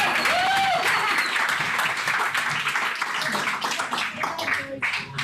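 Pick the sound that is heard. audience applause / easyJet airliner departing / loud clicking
audience applause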